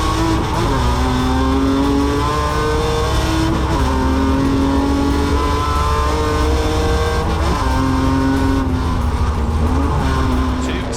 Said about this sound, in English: It is going to be Nicolas Menassion then that leads the way up towards the timing line.